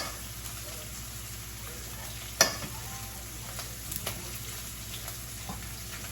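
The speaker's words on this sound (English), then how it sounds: "you guys can hear the steak just cooking in the background" Steady sizzling of steak frying in butter in a pan, a continuous crackling hiss with a sharp clank partway through and faint kitchen clatter.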